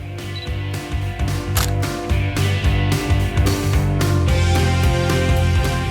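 A camera shutter fires with on-camera flash in a quick series of sharp mechanical clicks and snaps, roughly a dozen in irregular succession, close and alone.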